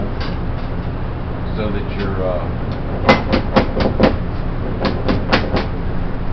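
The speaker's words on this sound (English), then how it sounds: "Put your hammer on an angle and just sliding it across the table" Steel hammer held at an angle and slid across a table against steel wire, giving a series of sharp scraping and knocking strikes in quick irregular clusters, close and fairly loud over steady background noise and brief speech.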